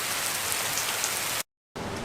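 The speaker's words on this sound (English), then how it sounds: "We got the rain out here." Steady rain falls outside, a dense hiss of drops close by. It cuts out briefly near the end and then resumes.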